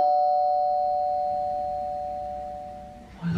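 A doorbell chime rings indoors as a single sustained electronic tone that slowly fades over a few seconds, ending in a brief thump.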